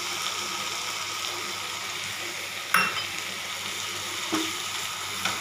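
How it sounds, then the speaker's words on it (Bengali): A paste of ground coriander, cumin, turmeric and green chilli frying in a pan: an even close hiss of sizzling punctuated by a sharp utensil clink and a couple of faint scrapes. "এই মশলাটাকেও খুব ভালো করে কষে নিতে হবে"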